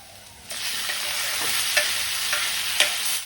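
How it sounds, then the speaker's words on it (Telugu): Tomatoes sautéing in a pan for masala bitter gourd, a steady close sizzle starting abruptly, with a spoon scraping and stirring in occasional taps, no talking. "ఇప్పుడు టమాటాలు దీంట్లోనే మగ్గించుకోవాలి"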